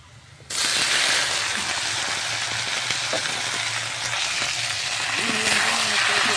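Jute leaves hit a pan of deeply browned, slightly charred onion and garlic, bursting into a loud, close sizzle that holds steady with faint stirring underneath.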